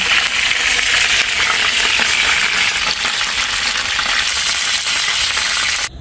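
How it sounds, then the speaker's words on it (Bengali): Chicken pieces for a roast are lightly fried in oil in a wok (kadai), a loud, steady sizzle that holds evenly for about six seconds before cutting off abruptly. "যে কড়াইটার ভিতরে মাংসটা ভাজি করছি"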